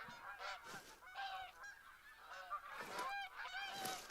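Geese honking in theHunter: Call of the Wild hunting game, a flock of repeated nasal calls overlapping in quick succession, moderately distant and steady throughout.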